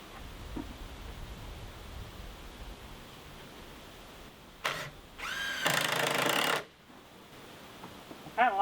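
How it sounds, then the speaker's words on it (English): A power driver sets screws into a workshop wall being built, with short bursts of motor whir, one longer sustained run near the end, and quiet pauses between them, heard close with no speech. "start putting some screws in"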